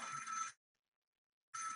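A novelty lobster-shaped telephone rings in two electronic trills, the first about half a second long, then a second of silence before the next ring starts.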